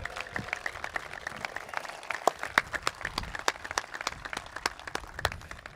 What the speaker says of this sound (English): can I get a please big round of applause for Jason for first time up here too?